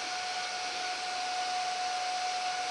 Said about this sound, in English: make the motor run at 2000 RPM.